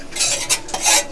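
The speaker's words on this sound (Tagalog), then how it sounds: "Stir lang ng stir" Maja corn jelly mixture stirred in a pot, a spoon scraping the bottom in quick bursts of close, loud scraping strokes.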